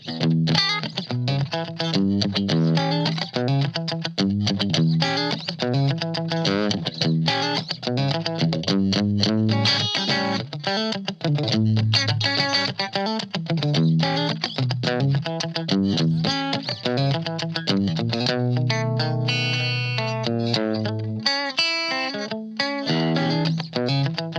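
Electric guitar played through a Blackstar ID:Core V3 amp on its clean bright channel, funk-style riffing with steady chords and single-note lines, continuous and close with a light chorus-like shimmer and no talking.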